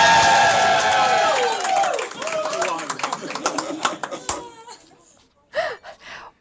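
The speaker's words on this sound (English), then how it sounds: "Give us a cheer." A small group of people cheering and whooping at the 2022 NSW Architecture Awards ceremony, loud bursts of excited voices and some clapping that fade out, then one short shout at the end.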